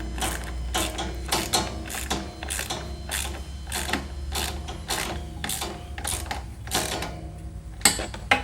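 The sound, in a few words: ratchet tightening bolts on Yamaha Drive golf cart seats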